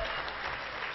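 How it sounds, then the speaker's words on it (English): A convention audience at a New York State Democratic gathering applauding, a dense steady wash of clapping across the whole moment, fairly distant and even, with no voices above it. "Give Steve a round of applause."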